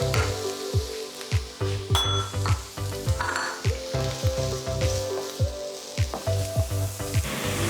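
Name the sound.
chopped garlic and chilli sizzling with onions in pan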